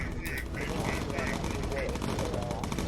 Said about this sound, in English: Citrus, focus fire with incendiary.